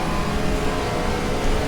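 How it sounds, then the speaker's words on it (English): Racing video game car engine in the 1974 1000km of Mexico City race, a steady mid-pitched drone held loud and continuous with no talk over it. "Okay, so you guys can actually hear the car somewhat."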